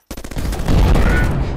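Rapid machine gun fire in the robot game Bionic Dues: a quick burst of distinct shots that merges into a loud, sustained roar, close and heavy, with no speech.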